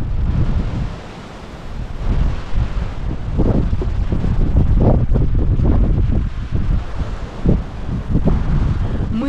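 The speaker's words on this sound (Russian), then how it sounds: "На пляже сегодня невероятный ветер" Strong wind roars across a beach with surf breaking nearby, loud and continuous gusts buffeting the microphone throughout, with no one speaking.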